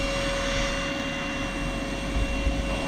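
Air rushes steadily out of an inflatable camping mat during a car-camping stay, a continuous close hiss and rumble with a faint steady tone running through it and no voices.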